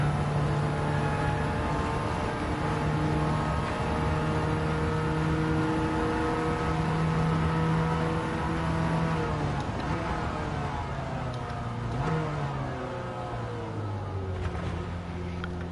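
A car engine in Gran Turismo 7 revs steadily upward, its pitch climbing over about fifteen seconds, then shifting gears and rising again; loud, close, and uninterrupted.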